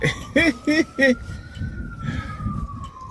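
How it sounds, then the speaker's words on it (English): A siren wails steadily in the background while someone talks over it in short bursts, then traffic rumble and muffled voices continue. "That's why they're using the sirens."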